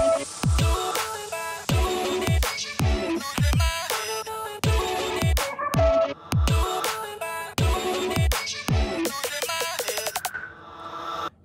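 Drum pattern and melodic sample playing from a Roland MC-101 groovebox in a pop/future bass track: steady punchy kicks with bright hits and chopped tonal layers, loud and continuous, without speech.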